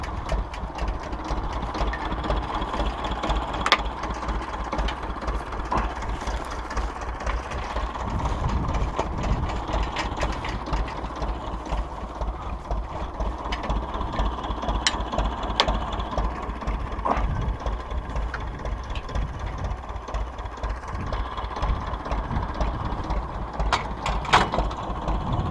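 A tractor without a cab runs steadily nearby during rapeseed sowing, its engine a continuous mechanical drone with rattling and clicking parts, no voices over it.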